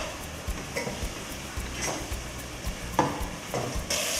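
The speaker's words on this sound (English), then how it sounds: "We've just been frying this for about 2-3 minutes." Masala sizzles in hot oil in a pot for dum biryani while a spoon stirs and scrapes, with irregular clinks over a steady frying hiss.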